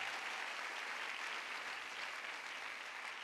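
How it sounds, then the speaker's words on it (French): A church congregation applauds in a steady, even wash of clapping from many hands, sustained and moderately distant throughout with no break. "Donc, est-ce qu'on peut acclamer encore?"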